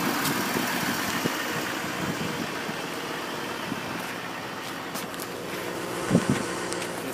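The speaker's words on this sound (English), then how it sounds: "Duramax diesel" A Duramax diesel V8 in a 2015 Chevrolet Silverado 2500HD Z71 idles steadily at close range, a low continuous rumble with a faint louder knock near the end.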